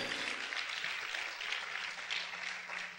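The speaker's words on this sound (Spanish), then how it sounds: "Vamos a aplaudir fuerte al Rey." A church congregation claps loudly and steadily together, a continuous bright wash of applause with no talking on top.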